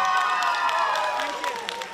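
Crowd cheering and applause at a high school freshman ball as a student is called up, with excited shouts and clapping filling the room throughout.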